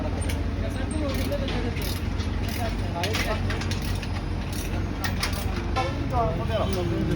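Ratchets tighten scaffolding couplers on a construction site, producing clattering metallic clicks over a constant rumble, with voices in the background.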